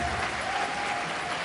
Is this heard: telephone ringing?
no